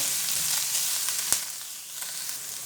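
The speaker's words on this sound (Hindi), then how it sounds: "चिकन को करेंगे फ्राई, उतनी देर तक फ्राई करेंगे जितनी देर तक इसका कलर ना चेंज हो जाए।" Chicken pieces frying in a pan for chicken malai balls give off a steady, close hiss of sizzling oil, with one sharp crackling pop midway and no talking.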